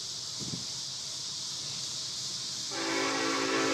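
A Union Pacific freight train running on CSX track sounds its horn, a loud sustained multi-tone blast cutting in near the end over a steady rumble of the passing train.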